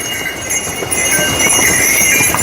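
Horse hooves clopping on a muddy, rain-soaked pilgrim trek path to Kedarnath at night, a steady run of close, irregular hoof strikes over a constant high hiss of rain and insects, with no talking.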